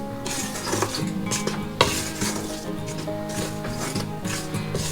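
Irish soda bread dough made with buttermilk is mixed in a bowl, giving close, continuous rubbing and scraping strokes in an irregular rhythm, with one sharper knock partway through.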